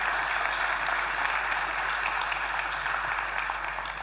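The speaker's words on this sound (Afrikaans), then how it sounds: "Kan ons dalk net vir 'n hande klap gee?" Church congregation at an Afrikaans service gives a round of applause, steady dense clapping at moderate level over a low background hum.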